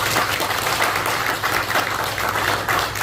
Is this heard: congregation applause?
yes